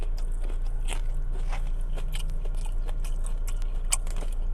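A bite into a crunchy fried chicken tender sandwich from Durdens, the Yung Gripper, gives a close, loud run of crisp crunching and chewing with no talking.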